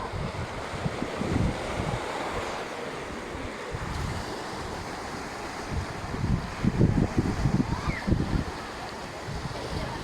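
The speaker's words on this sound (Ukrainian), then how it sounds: "А якщо ще зранку, чашечка кави і хвилі морські, звук моря." Sea waves wash onto a beach at Odesa, a steady surf roar with louder breaking surges, mixed with gusty wind buffeting the microphone and faint distant voices.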